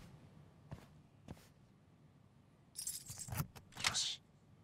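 A key ring jangles close by in two bursts of metallic rattling, with a few faint taps just before and a quiet room behind.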